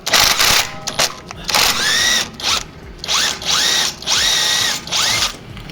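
Pneumatic impact gun removing a shock absorber bolt on a 2020 Audi A5 during rear coil spring replacement: loud, close bursts of rattling hammering, each with a rising whine as the air motor spins up, repeated about five times with short pauses.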